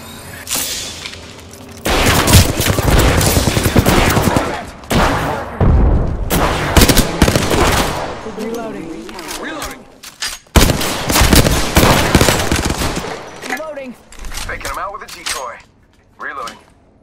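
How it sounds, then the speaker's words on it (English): Gunfire in the video game Apex Legends comes in repeated loud, rapid bursts broken by short pauses across the whole stretch. Voices talk over and between the shots. "Get shot at!"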